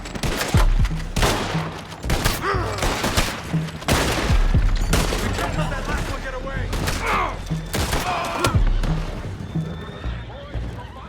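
Gunfire in Red Dead Redemption 2 sounds in a battle: repeated sharp shots and bursts ring out over horse whinnies and clopping hooves, with talk in between.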